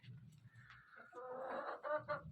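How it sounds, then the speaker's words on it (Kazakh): Hens clucking inside a coop during a snowstorm while they lay eggs, with soft low murmurs giving way to a run of louder, close, rising clucks and squawks. "Мұнда тауықтар"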